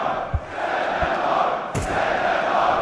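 An esports arena crowd at the IEM Sydney 2023 Counter-Strike grand final, Complexity against FaZe Clan, roars in a steady wall of cheering and shouting, with a few low thumps under the din.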